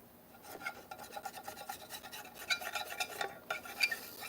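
A carbide scraper works old gasket material off an engine cover, a quick series of close, gritty scraping strokes in an uneven rhythm, faint but distinct.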